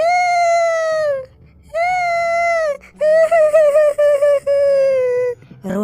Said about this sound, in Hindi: रोने की आवाज़ सुनाई देने लग जाती है।